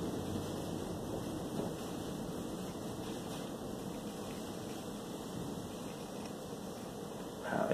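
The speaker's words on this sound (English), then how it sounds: "it is super windy outside" Steady roaring wind buffeting outdoors, a constant broadband rush with slight gusts, loudest near the very end.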